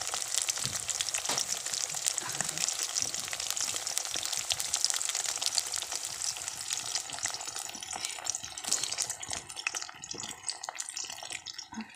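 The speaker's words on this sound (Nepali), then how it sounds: "फ्राई हुँदैछ माछा" Fish frying in hot oil in a home kitchen, a dense steady sizzle with faint watery crackle running throughout and easing slightly toward the end.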